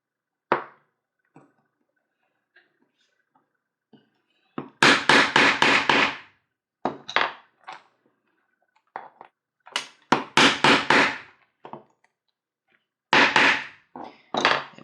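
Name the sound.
hammering rivets into a cone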